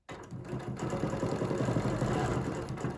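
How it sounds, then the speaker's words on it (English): A domestic or longarm sewing machine stitches steadily through a quilt guided along a ruler, a continuous close whirring hum with a fast mechanical pulse, starting abruptly and running evenly for about three seconds with no talk. "I'm going to come and stitch up to that point, holding my ruler flat and my quilt flat."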